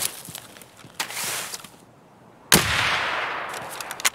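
Sniper rifle shots in Escape from Tarkov, two sharp cracks about one and a half seconds apart, each with a long reverberant tail, plus faint scattered clicks and no talking.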